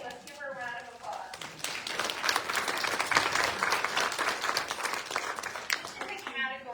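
Audience applause at a fall VIP fashion show swells after a short spoken line and runs steadily for several seconds of moderate, dense clapping before a voice picks up again.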